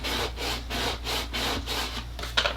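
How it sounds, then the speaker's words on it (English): A squeegee pressed and rubbed back and forth over vinyl decal on a wood piece, producing rhythmic scraping strokes about four per second, close and steady, no talking. "you come back in with your squeegee, press it down"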